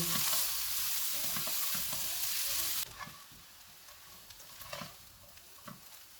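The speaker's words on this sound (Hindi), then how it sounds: "इनको 2 से 3 मिनट तक भूनेंगे।" Mashed boiled potato filling with fresh coriander sizzles and is stirred in a pan for samosas: a loud hiss at first, then quieter frying with intermittent scraping of a spatula close up.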